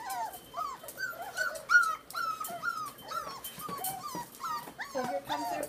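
A litter of puppies separated from their mother for about twenty minutes whine and whimper loudly and constantly, overlapping high, wavering cries with occasional yips, close by and without pause.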